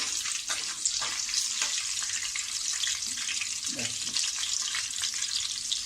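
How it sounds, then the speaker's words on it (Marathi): Green chillies and curry leaves fry in hot oil for thin poha chivda, a dense, even sizzle close by with faint stirring sounds underneath. "हिरव्या मिरच्या व्यवस्थित आपल्याला परतून घ्यायच्या आहेत"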